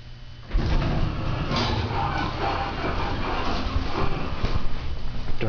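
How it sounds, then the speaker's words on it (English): A Dover hydraulic elevator door in a mall office tower slides shut, a steady mechanical rumble and whir of the door drive running on for several seconds, close by and fairly loud, with no one talking. "Door's gonna close."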